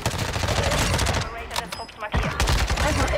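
Rapid bursts of gunfire, fitting shotgun blasts in Warzone 2, crack loudly and densely through the clip with a short lull near the middle, while players talk faintly underneath.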